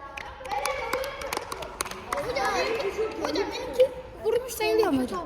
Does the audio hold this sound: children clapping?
yes